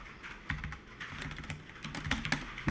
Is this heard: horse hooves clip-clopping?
no